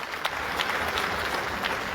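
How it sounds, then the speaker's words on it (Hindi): A stadium crowd at a political party rally in New Delhi applauds a welcome, dense continuous clapping with scattered louder claps, steady and fairly distant throughout. "जोरदार ताली बजा करके इनका स्वागत करिए।"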